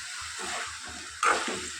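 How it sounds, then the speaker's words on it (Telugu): Ivy gourd sizzles as it stir-fries in a pan, with a soft continuous frying hiss and a steady rhythm of stirring scrapes, plus a brief louder clatter near the end. "దొండకాయని కలుపుతూ వేయించుకోవాలండి"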